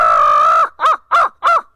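A hunter's hand-held crow call imitates a crow, used while turkey hunting: one long loud caw followed by three short, evenly spaced caws, close and alone.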